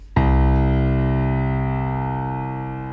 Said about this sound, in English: The sixth string should be C, that's 2 tones below the standard E.